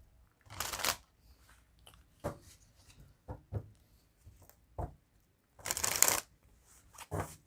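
Tarot cards are shuffled in quick bursts, crisp riffling rustles coming close up between short quiet gaps, with no talking.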